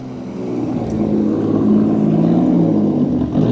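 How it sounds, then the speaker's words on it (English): Heavily modified Mark IV Toyota Supra with a 2JZ inline-six idling at a classic car show, giving a loud, steady, deep burbling rumble that swells slightly at close range. "I hear the distinctive rumble of a 2GZ inline 6 from this Mark IV Supra."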